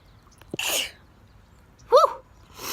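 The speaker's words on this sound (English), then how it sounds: "I'm about to sneeze." One person sneezes: a short breathy intake and then a sharp, noisy burst of air, near and clear against a quiet outdoor background among spring blossoms, with a brief vocal sound after it.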